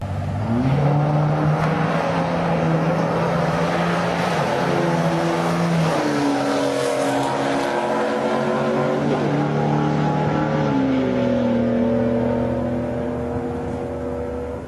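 A Pontiac Firebird drag race car makes a quarter-mile run of about 11.58 seconds at roughly 120 mph, its engine roaring loud and steady through the gears, shifting pitch mid-run before easing off.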